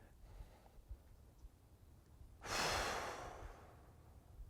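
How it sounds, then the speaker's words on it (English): A single deep breath drawn in during an outdoor nature meditation, a broad airy rush rising suddenly after quiet background and slowly fading, close and fairly soft. "Take a deep breath in."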